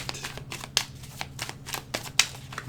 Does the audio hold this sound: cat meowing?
no